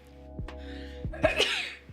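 One person sneezes close to the mic indoors during a casual weekend wine chat, a short sharp burst after a few quiet breaths, with a low steady background hum.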